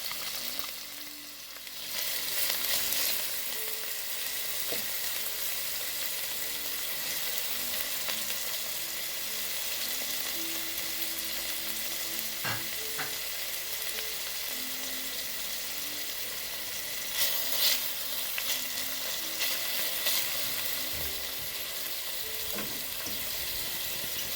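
Saltfish fries with garlic in a pan, a steady soft sizzle close by with occasional light stirring taps and clinks and no one speaking.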